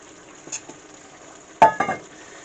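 Sausage is pushed into sizzling vegetables in a frying pan: a faint background sizzle, a couple of soft taps, then a sharp clack and scrape of the utensil against the pan, brief and close.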